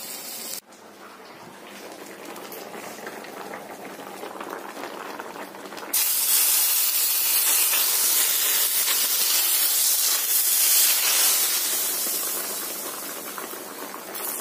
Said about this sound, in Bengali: আমার ভাতে মার পড়ে যাচ্ছে